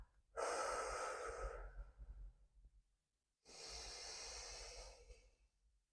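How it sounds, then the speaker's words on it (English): Two long, breathy exhales, each a couple of seconds of steady airy rush with a soft tail, separated by a quiet pause, close and alone, paced like a slow deep-breathing exercise in a pelvic-floor mobility routine. "Big deep breath in. Long exhales."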